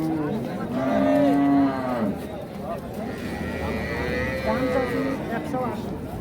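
A four-tooth-aged Holstein Friesian dairy cow at a farm in Narsingdi gives long, low moos, one loud and close and others fainter, while people talk nearby.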